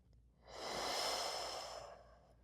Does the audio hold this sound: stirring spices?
no